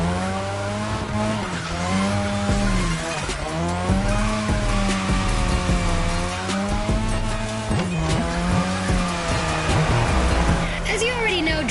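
A car drifting on a drift track in The Crew Motorfest wails with sustained tire squeal over a loud, wavering engine whine that rises and falls through the turns, continuous and close, with talk underneath.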